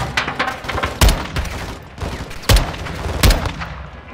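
Rapid gunfire fills a Modern Warfare II campaign battle, with several sharp, loud shots at uneven intervals over a continuous background of crackling weapon fire.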